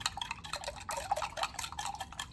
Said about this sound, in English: So you stir, stir, stir, stir, and the little microplastics will float in the salt water.